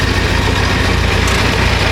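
A running Ford Model T engine after starting, a loud, steady, close-up chugging idle with a fast even pulse, heard alone for about two seconds.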